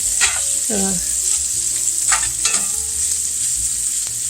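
Bell peppers and sausage pieces cook in a pan, a constant loud sizzle with a few sharp utensil scrapes and stirring clicks near the start and middle.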